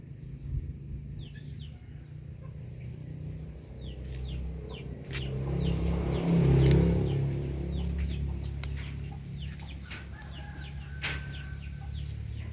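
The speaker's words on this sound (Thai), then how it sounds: "แล้วมีตัวไก่มารบกวนอ่ะ" Chickens cluck in short, repeated calls around an outdoor mushroom-feed mixing area. Some calls are near and some farther off, over a steady low background hum, with a louder stretch midway.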